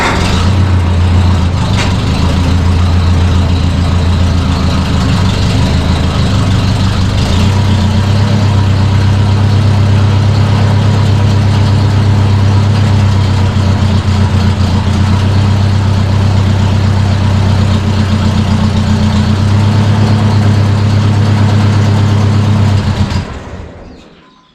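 A 1953 Ford Jubilee tractor engine idles steadily after a cold start, a close, loud and even low rumble that holds for over twenty seconds before cutting off abruptly.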